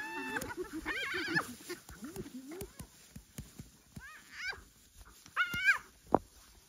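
African wild dogs and a hyena squabble over a kill, with sharp yelps, whines and high twittering calls coming in bursts at moderate distance, and a person speaking faintly at times.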